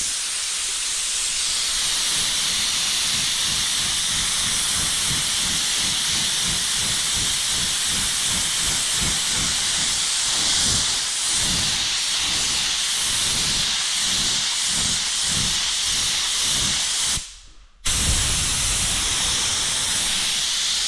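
A paint spray gun at lowered air pressure lays down custom graphics on a race helmet, a loud continuous hiss with a pulsing low rumble that cuts out briefly near the end.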